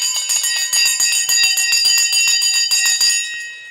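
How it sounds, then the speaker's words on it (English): The stock market opening bell rings loud and continuous, a rapid metallic electric clanging held for several seconds before abruptly stopping. "The bell's about to go."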